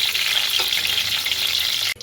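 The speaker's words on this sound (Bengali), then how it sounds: "ফুলকপিটা দেখুন কি সুন্দর লাল লাল করে ভাজা হয়ে গেছে।" Cauliflower frying in hot oil in a pan, a loud continuous sizzle with a faint knock near the end.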